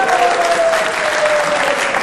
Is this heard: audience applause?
yes